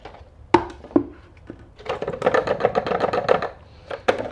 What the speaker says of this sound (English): Now we're going to pour it into our solar sprayer